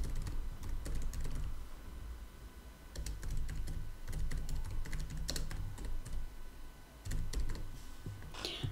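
Rapid bursts of typing on a computer keyboard as a search query is entered, close and fairly steady with brief pauses between runs of keystrokes and a final flurry near the end.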